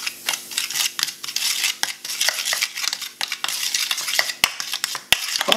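Lime or lemon juice mixed into toothpaste in a spoon for a teeth-whitening remedy, heard as rapid, close, repeated metallic scraping and clinking of the spoon in a quick irregular rhythm, without speech.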